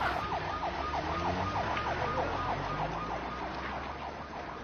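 An ambulance siren wails continuously in a rising and falling pattern, repeating steadily over road traffic rumble and staying at a moderate distance throughout.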